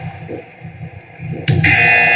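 After a low background murmur at a staged rumble-style event, a loud buzzer cuts in abruptly and holds steady to the end.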